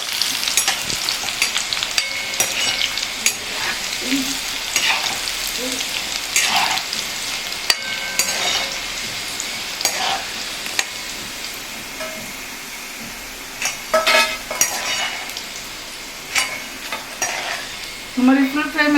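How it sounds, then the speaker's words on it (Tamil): Chapati pieces fry over full flame in hot oil, a steady close sizzle with bursts of bubbling and occasional scraping stirs, no voices. "இந்த மாதிரி ஃபுல் ஃப்ளேம் வச்சு பொரிச்சிங்கன்னா"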